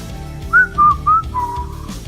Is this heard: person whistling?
yes